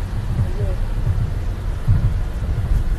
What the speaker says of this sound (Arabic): مطر والله مطر خفيف